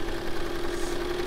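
A sewing machine stitches across the top of a fabric book page, giving a brief, steady, close motor hum with no pauses.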